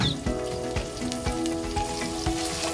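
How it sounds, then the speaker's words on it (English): Boiled beef frying in vegetable oil in a sufuria, a dense, steady sizzle with a few soft stirring knocks, close and alone. "I'm going to put 3 tablespoons of vegetable oil on my sufuria, then add my boiled meat. Then as I fry"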